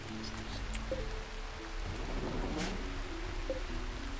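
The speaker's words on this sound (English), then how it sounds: "Like the rain effect?" Steady rain hiss fills a RimWorld game scene, a constant broadband wash at moderate level. Low tonal game music hums underneath with no talk.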